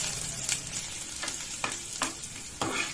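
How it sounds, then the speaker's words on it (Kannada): Ginger and garlic fry in hot oil with mustard seeds and cumin in a kadai, a soft continuous sizzle broken by several scraping stirs of a spoon against the pan. "ಸ್ವಲ್ಪ ಶುಂಠಿ ಫ್ರೈ ಆಗಿದೆ."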